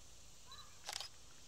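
A Canon T3i DSLR in manual mode fires its shutter once, a quick close mechanical click-clack in an otherwise quiet room.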